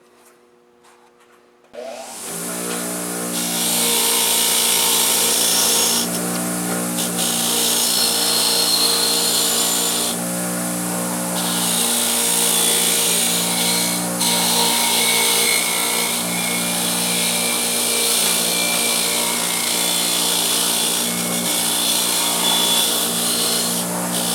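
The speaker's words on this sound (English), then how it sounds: "Let's take this over to the wire wheel, get it cleaned up." A wire wheel grinding abalone shells to clean them, a loud continuous whirring and abrasive rasp with a steady motor hum, starting after a brief quiet moment and running on close by without talk.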